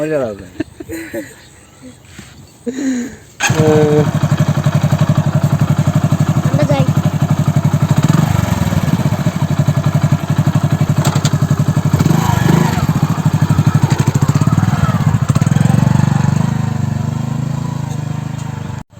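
A motorcycle engine idles steadily and loudly close by for most of the stretch, a continuous rough drone after a brief opening of talk and clatter, with voices heard over it.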